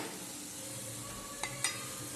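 Vegetables steam-frying without oil in a covered pan give a steady close sizzle, broken by two sharp clicks of the utensils.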